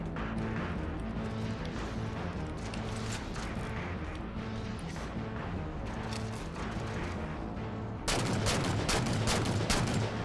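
Rapid gunfire from a Halo 4 shootout rattles on without a break, dense bursts of shots over the battle's constant background, then a louder, harsher stretch of firing in the last couple of seconds.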